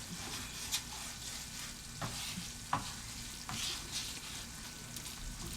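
Flour browning in shortening, a cup of each, frying steadily in a pan with a constant sizzle while a utensil scrapes and stirs now and then in a few distinct clicks.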